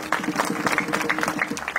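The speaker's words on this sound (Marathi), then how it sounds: "टाळ्या वाजवा त्यांच्यासाठी" Crowd at a Hindu kirtan gathering clapping for the women, a quick rhythmic clapping that carries steadily, with faint crowd murmur underneath.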